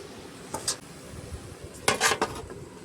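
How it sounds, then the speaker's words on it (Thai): Vegetables are stir-fried in a pan with a little sugar and oyster sauce while cooking at a rice field. A utensil scrapes and clatters against the pan in two short bursts, with faint sizzling underneath. "มาดูผัดผักเราจ้า"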